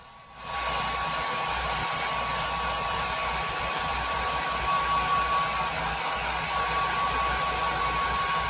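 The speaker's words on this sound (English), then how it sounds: "I give the lure a quick heat set before I remove the mesh." Heat gun blowing a steady, loud roar of hot air while heat-setting airbrushed chartreuse paint on a fishing lure, starting abruptly and holding constant without talk.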